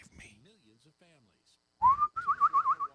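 A person whistles a short warbling, trilling tune up close after some quiet murmured talk, the whistle rising then wavering rapidly.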